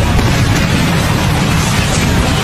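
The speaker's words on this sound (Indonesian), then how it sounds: "Ledakan dua kekuatan terkuat dari dua orang super itu benar-benar dahsyat." A loud, sustained explosive roar with heavy low rumble, filling the whole moment without a break.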